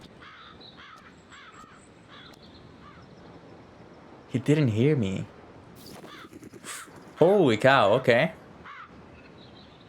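Bird cawing in the video game Tears of Themis: two loud, harsh crow-like bursts about three seconds apart, each made of rapid repeated caws, with a person talking casually before and between them.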